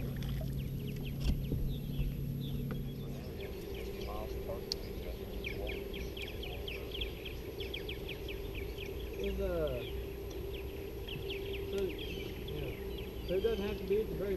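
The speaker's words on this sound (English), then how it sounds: "There's a boat coming." A boat motor hums low and steady across Kentucky Lake at a distance, with faint chirps of birds or insects around it.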